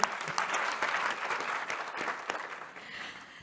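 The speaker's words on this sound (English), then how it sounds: "A round of applause, ladies and gentlemen." An event audience applauds to welcome a remote speaker, a dense, steady round of clapping from a crowd that holds for a few seconds and then tapers off.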